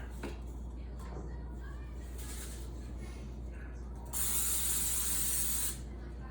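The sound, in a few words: baking spray sprayed on cookie sheet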